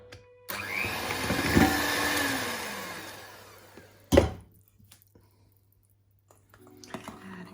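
Electric blender whirring through brown rice bread dough as flour is added, a loud steady motor drone for several seconds that winds down, then a brief knock and near silence.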